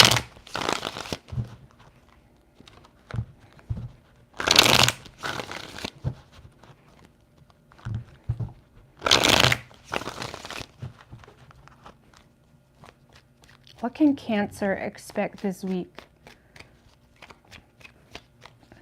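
Tarot cards shuffled in three bursts of crisp riffling flutter, close and fairly loud, with a person speaking briefly before them.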